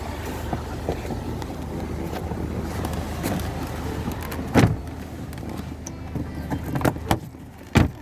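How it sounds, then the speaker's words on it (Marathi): Cars pass on a road by the Gangapur dam in Nashik during a water release, with a steady rushing roar underneath and a couple of sharper vehicle swishes standing out near the end. "इकडे गाड्या चालल्या आहेत"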